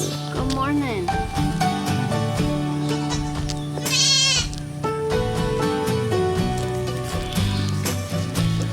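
Baby goats bleat repeatedly and close by, several wavering cries rising over one another, while someone talks to them throughout.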